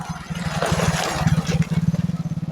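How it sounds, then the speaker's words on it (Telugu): A motorbike passes by on a street in the early morning, its pulsing engine rising in loudness and chugging rhythmically near the end, fairly close and heard alone. "ఇదిగో ఒక బైక్ అయితే వెళ్తుంది"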